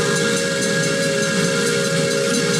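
Steam locomotive whistle blowing one long, loud, steady throaty tone, with breathy steam hiss underneath.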